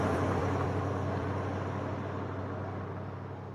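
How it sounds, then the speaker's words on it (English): A car passes by outside, a steady broadband roadway rumble and hiss that slowly fades over a few seconds, with no voices. "it might have just been a car passing by"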